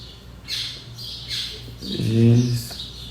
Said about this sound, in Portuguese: E hoje eu acordei antes que os passarinhos começaram a cantar só agora.